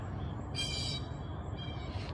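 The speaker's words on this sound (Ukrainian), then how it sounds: "Птахи." Birds call faintly in the distance, two brief high chirping bursts over a low steady outdoor rumble.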